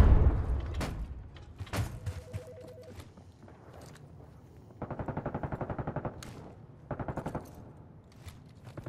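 XM4 rifle with an M203 launcher firing in the Black Ops 6 open beta, with two rapid automatic bursts of evenly spaced shots in the middle and later part, plus scattered single impacts and sharp game effects earlier.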